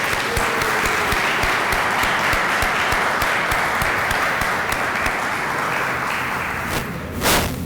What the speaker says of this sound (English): I want to start off with a round of applause thanking our employees.